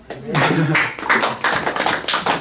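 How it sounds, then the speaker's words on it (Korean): A church congregation applauds at the close of a sermon, a burst of clapping that comes in uneven waves of claps from many hands in an indoor hall. "그 박수 치는 전통 아주 마음에 들어요."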